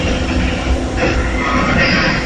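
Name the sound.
tram moving on rails during ride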